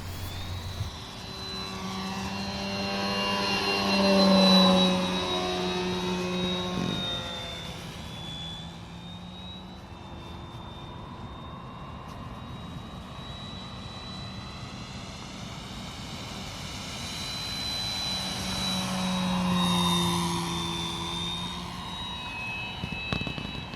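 An Avios Grand Tundra Plus electric RC model airplane, a 1700 mm EPO sport model, flies past twice, its propeller whine rising and falling in pitch as it approaches and recedes, then buzzing faintly at a distance.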